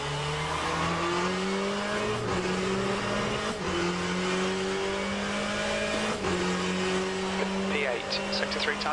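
A Corvette C8 GTE race car at full throttle at Donington Park in the rFactor 2 simulator, its engine droning loud and steady, rising through the gears with brief dips at each shift, while a voice talks over it.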